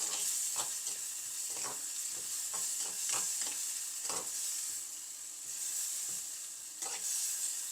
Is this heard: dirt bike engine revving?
no